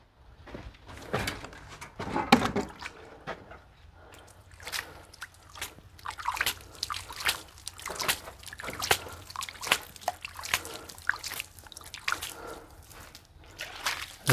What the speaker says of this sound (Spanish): Le damos de tomar bastante agüita a la pared. Mire cómo suena.